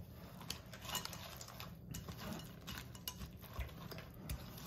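Chocolate being folded into almond flour low-carb brownie batter in a bowl, a faint continuous scraping and soft clicking of a utensil against the bowl, quiet and close.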